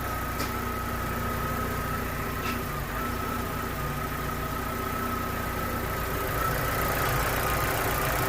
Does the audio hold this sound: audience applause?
no